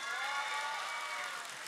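A large television studio crowd at the Vietnam Idol 2023 live finale applauds and cheers, a dense continuous roar of clapping, loud and sustained, with a musical tone ringing beneath it.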